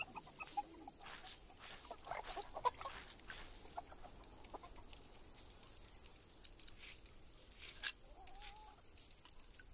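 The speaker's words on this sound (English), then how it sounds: "A bunch of chickens." Chickens cluck softly and intermittently in the Pillars of the Earth video game, scattered small calls over a faint, still background.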